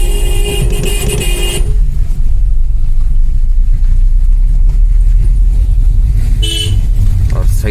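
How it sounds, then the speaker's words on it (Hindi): A long line of vehicles queues on a mountain road near Triyuginarayan in Uttarakhand during a fair, with a deep traffic rumble, bursts of car horns at the start and again near the end, and voices in the background. "और ये देखिए गाड़ियों की लाइन, बहुत लंबी लाइन लगी हुई है।"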